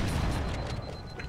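A grenade in Halo: Combat Evolved detonates as a short, deep, loud boom that fills the whole moment and then rumbles away, with no voices over it.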